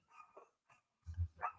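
A dog barks in a few short, loud bursts close by, with brief pauses between the barks.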